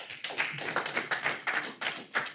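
Quick bursts of clapping from a small crowd, a short round of applause with uneven, scattered claps lasting a couple of seconds.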